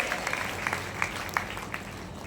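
Audience at a religious storytelling gathering clapping to welcome guests, a steady patter of many hands with a few sharper individual claps standing out.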